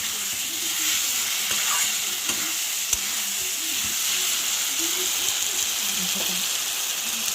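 Egg and lentil curry sautés in a pan, sizzling in a steady hiss with soft stirring scrapes throughout.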